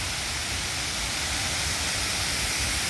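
A small hidden waterfall gives a dense, steady rushing hiss of falling water, loud and close, with no voices over it.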